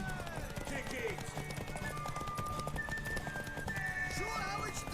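A horse in The Witcher 3 video game clops along at a steady run with a whinny over game music and ambience, while a voice talks over it.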